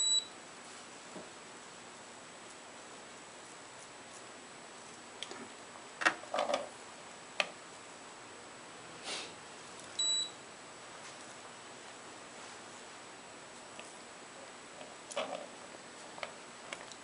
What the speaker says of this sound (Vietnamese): Mình nghe cái tiếng bíp cứ mỗi 10 second nó bíp một lần là cho mình biết là cái máy đang hoạt động.